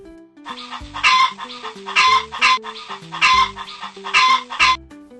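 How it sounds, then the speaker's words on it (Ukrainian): A hen clucks repeatedly in bursts, loud and close, with short rhythmic calls and pauses between phrases. "Вірно, це курка."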